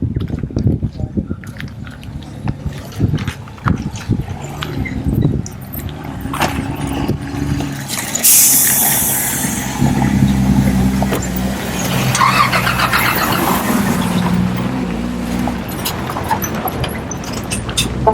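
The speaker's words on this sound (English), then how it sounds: "Dust truck coming!" A dust truck passes along a dirt road near Mompox, Colombia, with a rising engine roar, rattling and a high squeal that swell up close and then fade. Voices talk over it.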